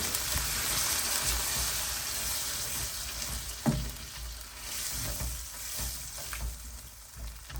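Potatoes frying in a pan as water mixed with leftover garlic and chili is poured in, producing a continuous close sizzle and bubbling hiss with a brief clatter midway and no speech.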